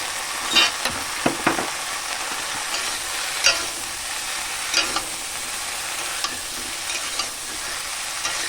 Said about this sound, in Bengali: এর মধ্যে সবটা পোস্ত বাটাটা দিয়ে দিলাম আর এখানে আছে নারকেল বাটা এটাও দিয়ে দেবো